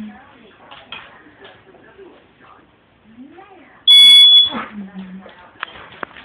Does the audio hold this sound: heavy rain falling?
no